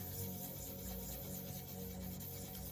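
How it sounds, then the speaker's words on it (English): Continuous scratchy rubbing, a fine abrasive hiss repeated in steady back-and-forth strokes, faint and close, with no voices, as paint is sanded smooth on a Washburn bass guitar neck repair. "I'm sanding paint smooth."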